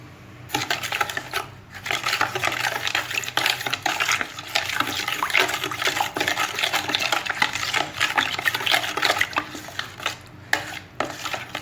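A spoon stirs dry baker's yeast into a mixture for sweet homemade bread dough, steady scraping and clinking against the bowl for several seconds, close and fairly loud with no talk.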